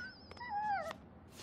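A dog lets out a short, thin whimper, rising then sliding down, fairly faint against a quiet background.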